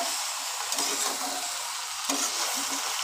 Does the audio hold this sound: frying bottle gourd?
yes